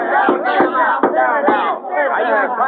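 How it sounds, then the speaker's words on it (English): An angry crowd in a 1952 Western shouts in a dense, loud, continuous roar of many raised voices, with surging peaks of yelling and no single voice standing out. "That crowd's worked up plenty."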